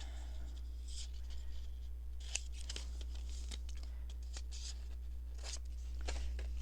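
Scissors snipping paper while trimming a tall skinny fold-out pocket for a junk journal, a series of quiet, close, crisp cuts and paper rustles spread unevenly over a low steady hum, with no speech.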